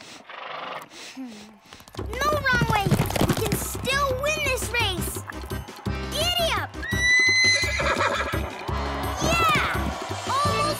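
Cartoon horse racing with loud neighs and whinnies and rapid clip-clop hooves, under excited voices and a cheering, upbeat soundtrack.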